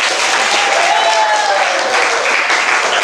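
A class applauds after getting every quiz answer right, a dense continuous burst of many hands clapping close by, with excited voices and a whistle-like tone mixed in.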